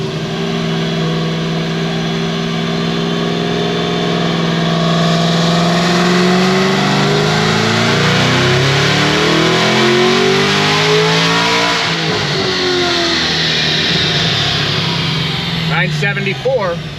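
A 1200 hp Stage 5 Cadillac CT5-V Blackwing engine makes a full pull, loud and close, its pitch climbing steadily for about twelve seconds before the note drops off and backs down.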